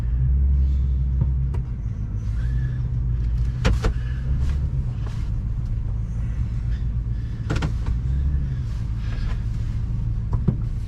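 A Toyota Tundra pickup truck rumbles along a rough, rocky road, its low engine and road drone steady throughout with occasional knocks and rattles from the cab, heard from inside and without talking.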